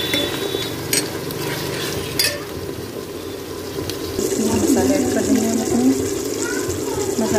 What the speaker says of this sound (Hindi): कीमा अच्छे से भून लेंगे।